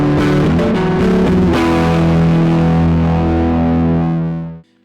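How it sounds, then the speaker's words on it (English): An electric guitar played straight through a distortion pedal with no amp simulation gives a loud, buzzy, fizzy chord that rings on and then fades out, alone with no talking. "here's what this sounds like with a distortion pedal added on top of that"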